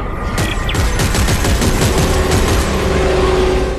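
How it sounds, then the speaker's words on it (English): Loud rapid gunfire in the Dead Space 3 video game, aimed at the yellow fuse of a drill, with several sharp shots rattling over a constant mechanical rumble. "there's a yellow fuse in the center. I'll try to shoot it."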